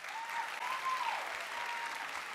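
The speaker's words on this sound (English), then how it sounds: "Another round of applause for her." A graduation ceremony audience gives a speaker a steady round of applause, moderately loud and even, with a faint tonal hum running beneath the clapping.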